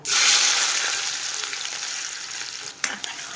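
Cumin seeds and finely chopped onion hit hot oil with a loud burst of sizzling that settles into a steady hiss, with a couple of stirring clinks near the end.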